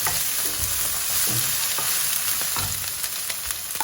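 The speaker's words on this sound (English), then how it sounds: "grate 3 nice chunky garlic cloves straight into the onions after 5 minutes. And then just cook it for a few seconds" Grated garlic frying with onions in a hot pan, a steady bright sizzle with intermittent spoon scrapes and low knocks against the pan, close and without talk.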